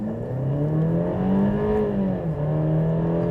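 A 2024 Mercedes E 350 Pinnacle accelerates at about half throttle, heard from inside the car. The engine tone climbs smoothly and steadily, dips briefly as it shifts, then keeps pulling, with no talk.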